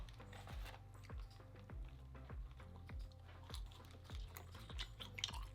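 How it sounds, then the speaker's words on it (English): McDonald's french fries chewed close to the mic, a steady run of soft crunchy bites and mastication with no talking, quiet and intimate. "I'm gonna chew these fries as if I was just gonna eat normal"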